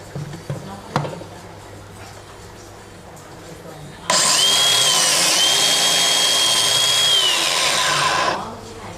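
DeWALT DCW682 cordless biscuit joiner plunge-cutting a slot in wood with dust extraction, a loud steady motor whine that starts abruptly, holds with a brief dip in pitch as the blade bites, then winds down, after a quiet stretch of low handling noise.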